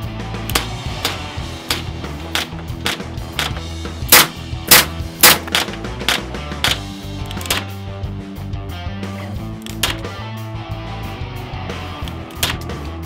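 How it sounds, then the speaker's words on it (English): A black CO2-powered WG Mini Tactical airsoft pistol fires BBs at a shooting range, producing a rapid string of loud, sharp cracks with uneven gaps, some shots coming in quick pairs. "Now let's take this gun to the shooting range."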